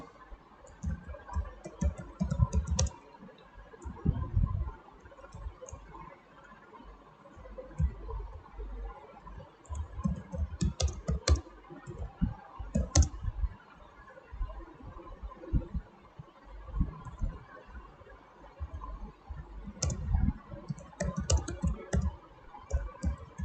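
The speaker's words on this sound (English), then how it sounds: "I'm going to type" Typing on a computer keyboard while entering business details into a Facebook business page form, a steady run of soft, close clicks and taps with brief pauses, no voices.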